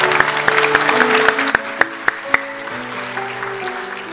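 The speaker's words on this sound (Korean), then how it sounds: "박수로 축하하겠습니다." A church congregation claps steadily and warmly for a few seconds during a worship service, with a few louder individual claps and a sustained musical tone underneath.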